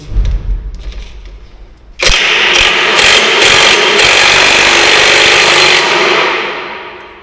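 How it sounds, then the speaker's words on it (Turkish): Cordless 800 Nm impact wrench loosening very tight bolts on a Peugeot Pulsion motorcycle at its first service, a loud, close, continuous rattling hammer burst after a quieter lead-in, holding steady for about four seconds before tapering off. "O yüzden 800 Newton torklu şarjlı kullanıyorum."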